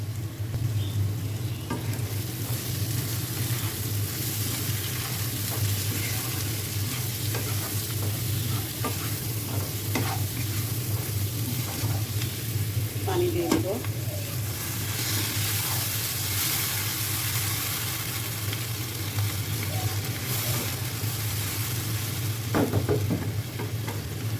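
Turmeric, chili and coriander powder frying in a pan, a continuous close sizzle with a low steady hum beneath and occasional stirring clatters spread across the stretch, no talking.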